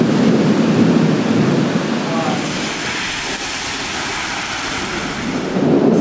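A heavy thunderstorm somewhere in Asia: a continuous low rumble of thunder over steady rain, loud and enveloping, swelling at the start and end.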